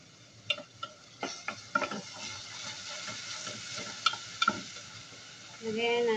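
Onion and garlic sautéing in hot cooking oil, a steady close sizzle with scattered clinks and scrapes of a spatula stirring in the pan, growing louder toward the end.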